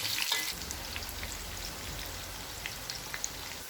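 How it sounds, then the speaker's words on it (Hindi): Chopped onion fries in hot oil, giving a close, steady hissing sizzle with scattered small pops, a sharper crackle burst at the start as it hits the pan, and no voices. "अब इसमें 1 अदद कटा हुआ प्याज डालेंगे, फ्राई कर लेंगे प्याज को 1 से 2 मिनट तक"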